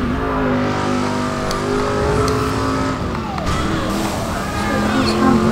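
Car engine boost in the driving game Driver San Francisco, a loud sustained revving roar with rising engine pitch throughout, alone without talk.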